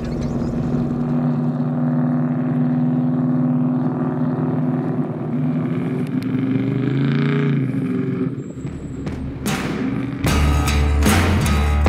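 A car engine idles while warming up before a drive, a steady, close, droning hum. Near the end it grows louder and rougher as the revs rise.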